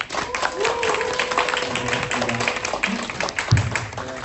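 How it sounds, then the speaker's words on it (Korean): Applause at a health forum as a speaker is welcomed, moderate clapping from the hall heard under and around a voice speaking. "큰 박수로 맞이해 주시기 바랍니다"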